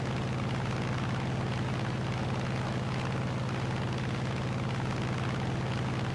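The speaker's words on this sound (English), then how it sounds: "There's an awful lot of shooting going on down there from all the landing craft" Continuous distant rumble of gunfire and explosions from landing craft in a War Thunder air battle, a dense steady roar mixed with aircraft engine drone and no clear individual shots.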